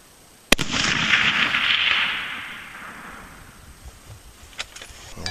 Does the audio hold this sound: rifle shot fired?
yes